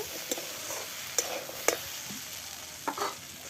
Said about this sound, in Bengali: এবার নাড়িয়ে নিচ্ছি এটা কষা হয়ে আছে